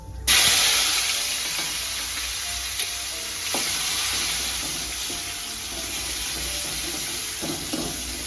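Asafoetida and onions hit hot oil in a pan with a sudden loud hiss, then settle into a steady, close frying crackle with occasional stirring clinks.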